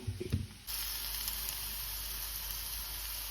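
An egg hits a hot pan and breaks into a steady, loud sizzling hiss that holds evenly after a brief clatter at the start.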